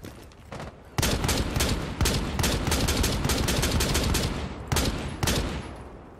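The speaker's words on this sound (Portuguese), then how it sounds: "daqui vai dar pra mostrar bem a funcionalidade dessa arma com a mira ACOG" Rapid bursts of rifle fire from Buck's weapon fitted with an ACOG sight in the Rainbow Six Siege video game, loud and close, with sustained volleys broken by brief pauses and no talking.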